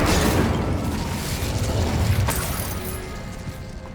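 A fiery Incendio spell bursts in Hogwarts Legacy, a loud, dense whooshing roar with a sharp crackle partway through, sustained and slowly fading.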